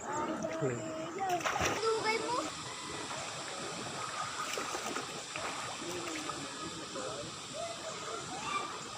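People bathe in a river on a summer day, with steady rushing water and scattered splashes throughout, while voices chatter and call out over the water.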